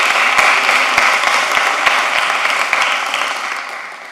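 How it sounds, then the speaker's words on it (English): Applause from the audience at a commission meeting: steady, dense clapping from a room full of people that carries on for about four seconds, then begins to thin out and fade near the end. "Let's give him a round of applause again."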